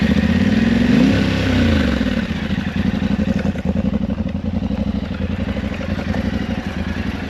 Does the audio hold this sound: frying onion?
no